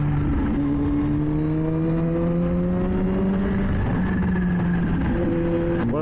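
A Kawasaki Z H2 motorcycle held in third gear, its engine droning loud and close with a smooth, rising and falling tone as the rider accelerates and eases off, alone without speech.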